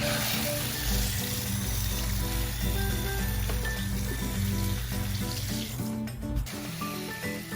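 Water pours steadily onto freshly potted begonias and salvia in a spring planter, a continuous splashing and trickling soaking into the soil.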